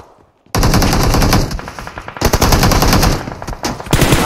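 Loud automatic gunfire in a battle royale video game match, starting after a brief quiet moment and continuing in long rapid bursts with short breaks, with no talk over it.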